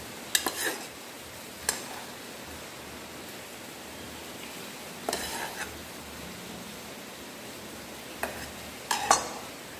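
Beaten egg white being folded into pancake batter in a bowl, with soft stirring scrapes and a few sharp utensil clinks against the bowl scattered through a quiet, steady background.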